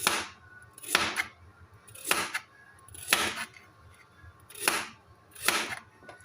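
A knife chops cucumber on a cutting board in five sharp, evenly spaced strikes, each a crisp thud with a brief ring, quiet between cuts.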